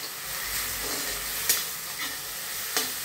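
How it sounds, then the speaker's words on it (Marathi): Steady sizzling of a sprouts usal curry with pav bhaji masala in a pan, with a few sharp scraping clicks from a spoon stirring through it. "आता हे सगळं मिक्स करून घ्यायचं."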